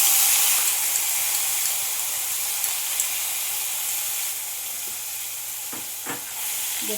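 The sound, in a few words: onion paste added to a frying pan, sizzling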